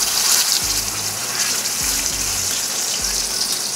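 A steak sears in plenty of smoking-hot oil in a pan, giving a steady, close, hissing sizzle with a low intermittent hum underneath.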